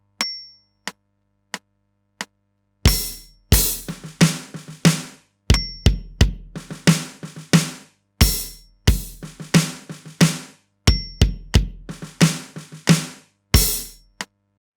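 A drum kit plays a groove, with double ghost notes before each snare hit, over a click track. A few lone clicks count in, then repeating bass, snare and soft ghost strokes follow in a close, dry recording.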